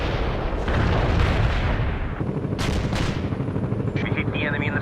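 Heavy artillery barrage in the World in Conflict video game: dense, loud, sustained rumbling blasts and booming impacts filling the whole stretch, with sharper bursts near the middle and a faint radio-like voice near the end.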